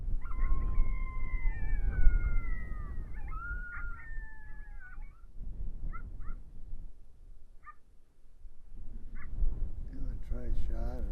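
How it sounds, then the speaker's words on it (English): Electronic caller plays a coyote pup serenade in the badlands during breeding season: a run of wavering, whining howls and yips, then scattered short yelps over steady background noise, ending in a burst of rapid high yips. "So I start up the pup serenade again, brought it out."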